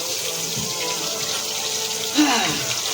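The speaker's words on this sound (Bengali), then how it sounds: "মা গেল হাতাটা ধুতে, হাতাটা নিয়ে আসুক" A kitchen tap runs steadily while a ladle is washed under it, a constant close rush of water with a brief clink-like splash near the end.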